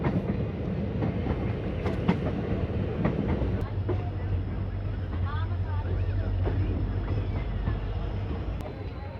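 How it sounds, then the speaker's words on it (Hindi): A passenger train on the Shri Ganganagar–Ambala route rumbles and clatters steadily along the rails into Malout railway station, with occasional metallic squeals and faint voices in the background. "लो जी, ट्रेन अपनी पहुंच रही है मलोट रेलवे स्टेशन"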